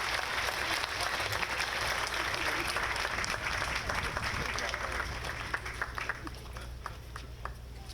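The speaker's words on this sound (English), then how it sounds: "Let's give the Boy Scouts a big round of applause as they retrieve the colors." Sustained applause from an audience at an outdoor Memorial Day ceremony as Boy Scouts retrieve the colors, steady clapping that thins slightly toward the end, with some voices under it.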